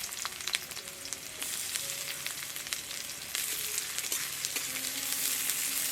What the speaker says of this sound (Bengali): সেই পেঁয়াজটাকে ভেজে নেব।